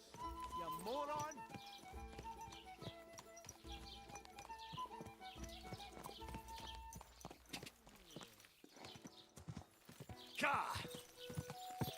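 Horse hooves clip-clop at a riding pace in Kingdom Come Deliverance II, a steady rhythmic clatter running under near, loud voices talking and shouting, with a whinny-like burst near the end.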